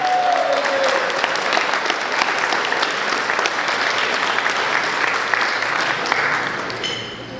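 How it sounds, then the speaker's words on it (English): An indoor audience applauds at a track team brunch, sustained and close, and the clapping begins to fade in the final second. "Let's give a big round of applause, everyone."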